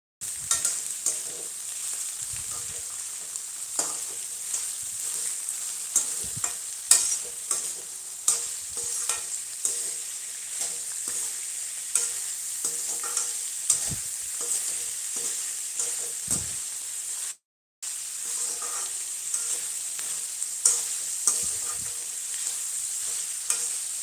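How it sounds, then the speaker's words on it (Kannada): Onions fry in oil with salt while a spoon keeps stirring them. A constant sizzle runs under repeated scraping strokes, with a brief drop to silence partway through. No one speaks. "ಎಣ್ಣೆಯಲ್ಲಿ ಈರುಳ್ಳಿನ ಹಾಕಿದಾಗ ಉಪ್ಪು ಹಾಕಿದ್ರೆ ಉಪ್ಪಿನ ಜೊತೆ ಜಲ್ದಿ ಈರುಳ್ಳಿ ಬೇಯುತ್ತೆ"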